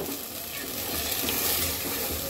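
Masala sizzles steadily in a pan for a Bengali-style katla fish curry as a little water goes in, a continuous close hiss and crackle with faint clinks, no talking.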